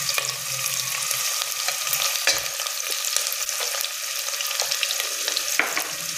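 Onion goes into a hot pan of oil while making sambar and sizzles and crackles steadily throughout, with a few stirring scrapes, close up and with no talking.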